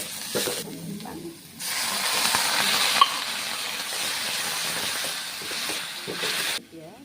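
Fish dropped into hot oil in a pan burst into loud, close sizzling that holds steady for several seconds after a brief quieter start, with faint stirring and a soft voice beneath.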